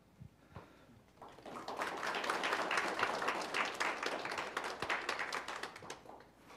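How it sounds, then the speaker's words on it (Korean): An audience at a city council policy seminar in Gwangju breaks into applause, a dense, sustained wash of many clapping hands that swells quickly and holds for several seconds before tapering off, heard from a moderate distance. "세미나를 여러분들의 큰 박수와 함성으로 시작할 수 있도록 하겠습니다"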